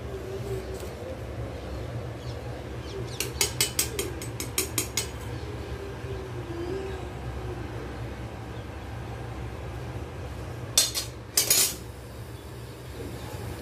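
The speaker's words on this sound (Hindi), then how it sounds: "ये देखिए फिर इतने बर्तन बचे हैं अभी धोने के लिए, फिर मैं इसे धोऊंगी।" Pots, cutlery and utensils clatter in bursts during home dishwashing, with quick metallic clinks around three to five seconds and again near eleven seconds over a steady low kitchen hum.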